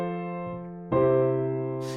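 Piano plays a plagal cadence, a sustained four chord fading before the one chord strikes clearly and rings out, close and clean with no talking.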